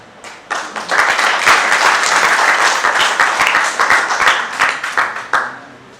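An audience at a Hindi stage play claps after a short quiet opening, the applause swelling into loud, dense clapping before easing with scattered distinct claps near the end.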